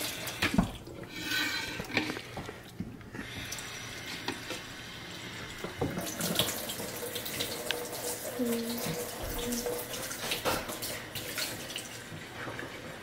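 Tap water runs in a kitchen sink while a plate is washed, a faint steady splashing with clinks and knocks of dishes throughout.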